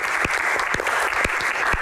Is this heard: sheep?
no